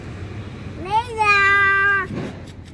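An elderly pet cat gives a single drawn-out, clear meow up close, rising then holding steady before trailing off, with quiet room sounds around it.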